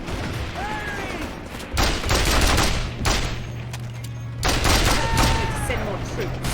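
Dense gunfire from a battlefield in the video game Mercenaries 2: World in Flames, with sustained bursts and heavy weapon fire rolling through most of the clip while soldiers shout over it.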